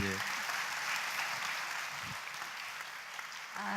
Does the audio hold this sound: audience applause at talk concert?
yes